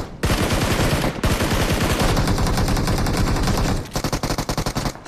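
Loud, rapid bursts of automatic gunfire in the video game BGMI, nearly continuous, then a shorter run of spaced shots at the end.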